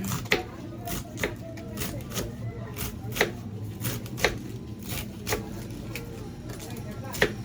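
Cabbage is chopped with a knife for a birthday pansit dish, giving a string of sharp, evenly spaced blade taps on a cutting board, close and fairly clear over steady background noise.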